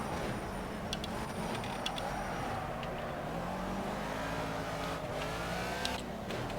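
A race car engine in the racing game Project CARS drones steadily and continuously at moderate loudness, with slight pitch shifts as it revs, and no talking over it.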